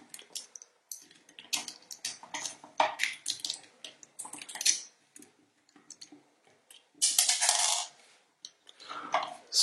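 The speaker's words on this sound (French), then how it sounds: "Ce que vous venez d'entendre, c'est comme sur l'autre MP10, c'est le bout du doigt qui tombe quasiment systématiquement dès qu'on manipule la main" A tiny plastic fingertip piece dropping off the hand of a Takara Transformers Masterpiece MP-10 figure, heard as light clicks and small tapping rattles among handling noises, close and quiet.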